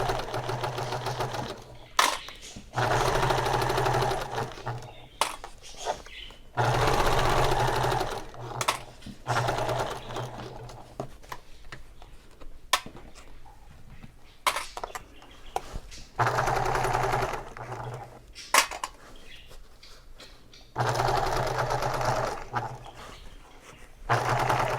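A sewing machine stitches a handbag in white thread along a seam line, running in bursts of steady mechanical whirring broken by short pauses for pivoting at corners.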